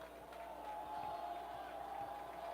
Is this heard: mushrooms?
no